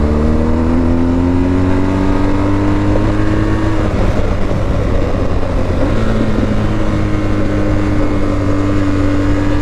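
A BMW GS 1250 adventure motorcycle engine runs loud and close, with a continuous droning exhaust note and shifting revs that rise and fall over a steady rumble.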